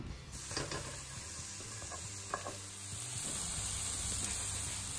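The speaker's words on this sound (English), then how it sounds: "Make sure you break apart the onion when you're sauteing it." Onion sizzles and sautés in a pan for a vegan meal prep, a steady close crackling hiss broken by soft stirring scrapes, with no talk.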